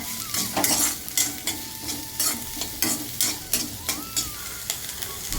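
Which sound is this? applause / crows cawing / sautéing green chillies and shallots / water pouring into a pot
sautéing green chillies and shallots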